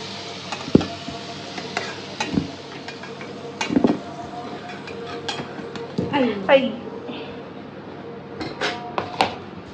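Golden fried potatoes lifted out of hot oil in a pan with a metal utensil, giving scattered clinks and scrapes against the pan over a soft sizzle, close and moderately loud, with a few brief knocks.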